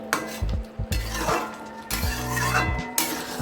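Cooked masoor lentil dal with potato being moved into a bowl, a series of scraping and clinking ladle-on-pot sounds with low thuds, close and irregular, continuing throughout.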